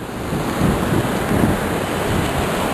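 Rapids at a Vermont river rush over a small waterfall of about a seven-foot drop, a steady broadband roar of churning water with gusts of wind buffeting the microphone and no voices.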